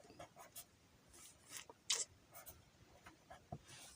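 Pen scratching numbers onto paper, soft scribbling strokes in short bursts at close range, quiet and with no talk.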